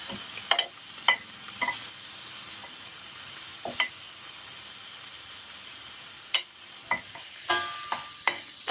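Prawns sizzle in a pan with a soft, steady frying hiss, while a spoon scrapes and stirs in sharp clicks at irregular intervals; quiet overall and no voices.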